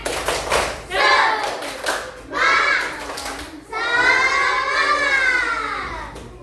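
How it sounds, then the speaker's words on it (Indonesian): Grade five primary schoolchildren in a classroom perform a rhythmic spirit clap, chanting loudly together in three bursts with claps marking the beat. "Ya, tepuk semangat untuk kita semua."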